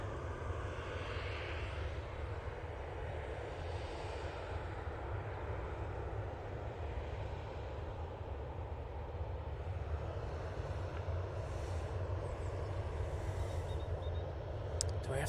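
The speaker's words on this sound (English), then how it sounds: "Ryanair should be going out next. They're just turning on via Victor Bravo." Ryanair jet taxiing out for departure to Malaga at Manchester Airport, a steady low engine roar and broadband hiss held throughout, distant and fairly faint, with no talking.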